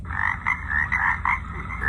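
Frogs croak from a LectroFan white noise machine in a steady repeating rhythm, several pulses per second, over a continuous low rumble of background noise.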